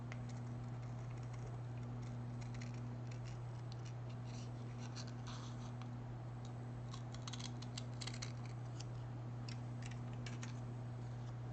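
Fabric scissors snip a small paper piece from a miniature bake shop kit, a run of faint, crisp clicks and cuts close by over a constant low electrical hum.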